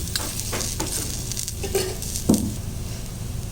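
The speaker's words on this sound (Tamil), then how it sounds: "இப்போ இதை நல்லா கிளறி நல்லா திருப்பி திருப்பி விட்டு நம்ம நல்லா அப்படியே சிம்மில் வச்சு ஃப்ரை பண்ணணும்" Taro root frying in a pan over low heat, with a steady sizzle and intermittent scraping from stirring and turning the pieces, close and moderately loud.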